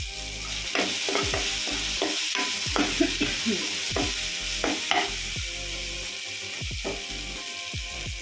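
Ginger garlic paste frying in a hot pan, a bright sizzle broken by repeated scraping and clacking stirs of a spoon, fairly close and steady with no talk.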